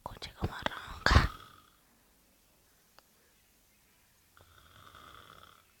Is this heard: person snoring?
yes